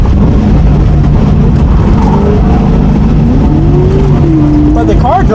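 A drift car revs loudly and skids through a transition at a drifting event, engine roaring continuously up close with pitch sweeping up and down as it downshifts, while people talk underneath.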